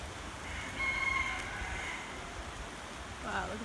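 Rooster crowing faintly in the distance on Maui, Hawaii, a brief call rising over steady background noise, with chickens around and a second faint bird call near the end.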